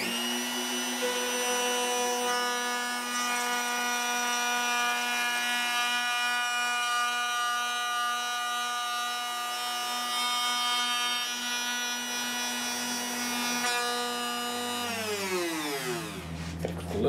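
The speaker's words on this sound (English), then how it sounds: "the reason I use a Bosch Colt router for this job is because the typical Dremel tool is 1/8 of a horsepower." A one-horsepower Bosch Colt router with a new bit cuts a saddle slot in an inexpensive guitar, holding a loud, steady high-pitched motor whine with no talk, then spinning down sharply at the end.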